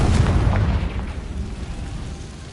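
Confringo fire spell exploding in Hogwarts Legacy, a loud, close boom at the start that rolls off into a fading rumble, with no talking.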